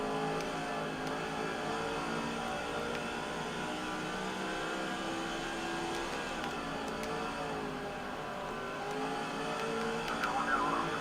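A NASCAR stock car from the NASCAR 05 video game, a Busch Series race at IRP, roars past in a steady engine drone with other cars whirring around it, fairly loud throughout.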